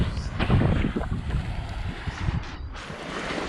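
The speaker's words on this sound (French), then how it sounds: "tu vas plus m'entendre avec les vagues" Sea waves rush and break on a shore with buffeting wind noise, a loud surge early on that eases into a steadier wash.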